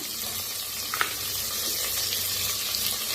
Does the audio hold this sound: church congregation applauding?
no